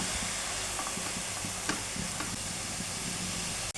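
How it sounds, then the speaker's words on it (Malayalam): Chopped spring onion stirred into sizzling vegetable momo filling in a hot pan, a continuous hissing fry with soft scraping stir strokes, close and steady, with no one talking. "ഇത് കട്ട് ചെയ്തത് ഇതിലേക്ക് ചേർക്കാം. നന്നായിട്ടൊന്ന് ഇളക്കി യോജിപ്പിക്കാം."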